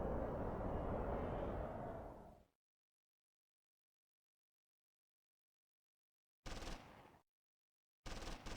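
A Panzer IV-D fires its machine gun in the Close Combat 3 video game, a loud sustained burst that cuts off abruptly, then two short bursts after a silence.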